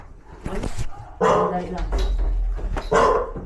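Dog barks and yips in short bursts up close, mixed with excited talking and shouting from several people in a wet, busy scene.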